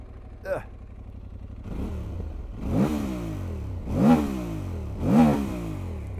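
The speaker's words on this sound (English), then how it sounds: "That is a lovely sounding bike right there" A 2025 Aprilia Tuareg 660 motorcycle idles, then its engine revs up three times in succession, each rising and falling sharply, close by with no talking.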